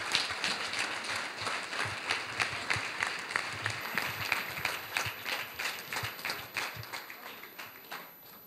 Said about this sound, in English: a big round of applause for each one of you